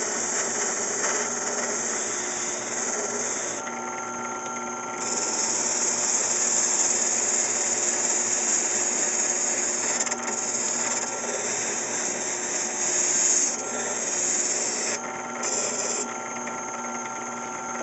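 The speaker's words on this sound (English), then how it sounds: "when I was doing my sanding." A rotary sanding drum whirs steadily against the wood of a cigar box guitar neck, a continuous grinding hum with slight shifts in pitch and pressure throughout.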